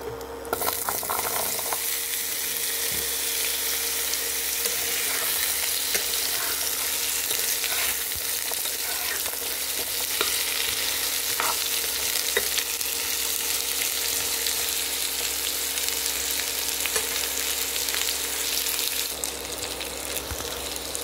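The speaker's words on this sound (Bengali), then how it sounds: "আলু কুমড়োটা ভালো ভাজা ভাজা হয়ে গেছে।" Potato and pumpkin frying in hot oil with five-spice in a wok, a continuous dense sizzle and crackle heard up close, with occasional stirring scrapes and no talking.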